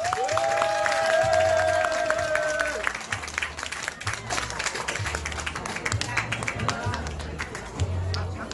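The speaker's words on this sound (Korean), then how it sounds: "박수 한번 주세요." Audience applause at an outdoor concert in a cherry-blossom park, steady clapping from a crowd mixed with a singer's voice and a strong rhythmic drum beat underneath.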